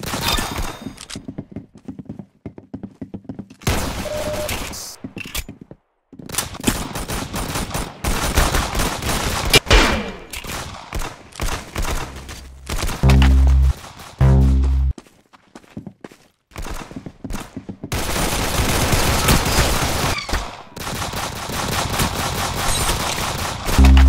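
Guns firing in the Roblox shooter game Arsenal, with loud rapid bursts of automatic gunfire and single shots separated by brief silent gaps across the stretch.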